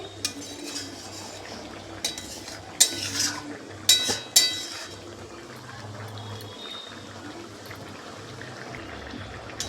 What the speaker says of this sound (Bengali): হালকা একটু নাড়াচাড়া করে নেব